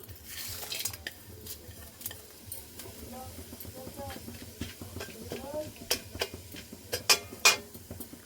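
Bay leaf, cumin, cardamom, cinnamon and grated ginger drop into hot oil for a chicken curry, giving a faint sizzle with soft clinks and stirring taps from the pan, under occasional talk.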